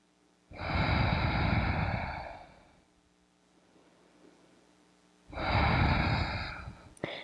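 Deep yoga breathing, a long loud breath in, a quiet pause, then another long close breath, ending with a brief click.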